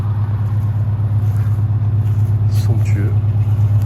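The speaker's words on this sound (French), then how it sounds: "On reconnaît le son caractéristique d'une deux pattes." A Citroën 2CV6 engine runs outdoors in a steady, low, throbbing drone that holds at an even level while a person talks over it.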